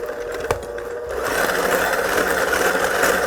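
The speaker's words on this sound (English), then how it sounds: "now we're going to start by creaming the butter and the sugar" Electric mixer creaming a stick of unsalted butter alone for a lemon sheet cake, a close whirring buzz that starts quietly with a clatter, then ramps up to a steady, louder grinding whir.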